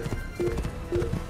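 A horse galloping in Assassin's Creed 1, quick rhythmic hoofbeats thudding in repeating pairs under tonal game effects.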